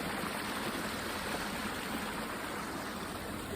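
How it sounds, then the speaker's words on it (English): Stream and waterfall in Uwharrie National Forest, a steady broadband rush of falling water heard from a rock above, even and continuous throughout with no talking. "Below me there is the waterfall."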